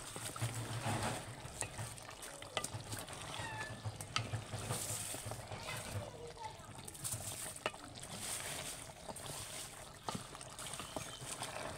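A beef and chickpea dal curry is stirred in a pot with a spoon, soft sizzling and repeated scraping clinks over a constant bubbling bed, with a voice talking faintly beneath.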